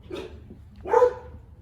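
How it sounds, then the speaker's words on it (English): A neighbor's dog gives two short barks a moment apart, heard faintly at a distance with no voices. "The neighbor's dog barking in the background."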